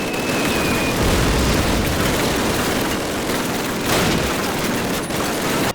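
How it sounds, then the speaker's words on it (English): Mortar fire and explosions in the Call of Duty video game, a dense continuous barrage of booms and bursts that keeps going at full loudness throughout, with no talking. "you have to find the fuckers that are shooting mortars at you"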